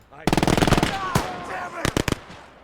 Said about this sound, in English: There's like a machine gun there.